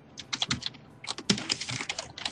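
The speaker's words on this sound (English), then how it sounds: "Whoa, six people typing at once." Several people typing at once on computer keyboards during a Skype call, a dense, continuous clatter of overlapping keystrokes with brief pauses, close and fairly loud, no talking.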